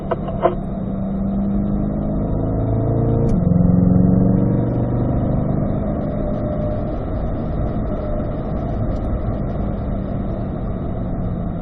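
The all-new C8 mid-engine Corvette on track at the Ron Fellows Driving School, a steady loud engine drone heard from inside the car, swelling briefly as it revs, then holding a sustained tone without talk.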